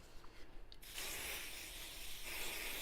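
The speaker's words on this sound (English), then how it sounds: "So a bit of spray. Make sure you spray away from your sewing machine." A steady hiss of aerosol spray used for sewing, sprayed away from the sewing machine, starting after a brief pause and running on continuously, fairly quiet.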